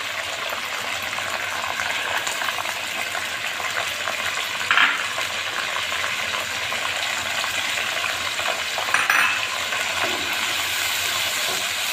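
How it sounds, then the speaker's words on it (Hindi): Chicken frying in a pan with tomato puree and spices for a spicy chicken fajita spaghetti, a steady close sizzle throughout with a couple of brief stirring scrapes. "अब इसको भून लेंगे हम मसाले को खूब अच्छी तरह से"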